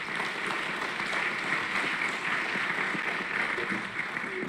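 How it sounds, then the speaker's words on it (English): Steady, dense applause from a conference audience at a Texas children's policy report event, continuous and fairly loud throughout with no gaps or talking. "So how about another big round of applause for Frances Deviney"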